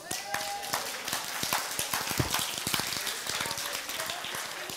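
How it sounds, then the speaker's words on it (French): A congregation claps during a church service, a fairly sparse patter of individual hand claps at moderate volume with a few faint voices mixed in. "On peut vous applaudir?"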